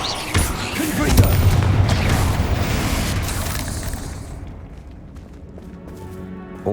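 A Confringo fire spell blast in the game Hogwarts Legacy lands as a loud booming burst, its crackling roar swelling then fading away over a few seconds into quieter background ambience.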